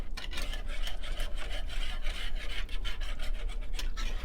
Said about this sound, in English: Scrape up the bits of meat at the bottom because you could feel there's meat down there